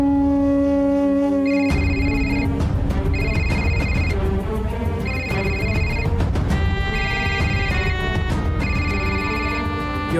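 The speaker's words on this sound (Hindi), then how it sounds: "ये औरत बार बार फोन कर रही है।" A telephone rings over and over, bursts of bright trilling bells repeating at a steady rhythm, loud and close over a background music bed.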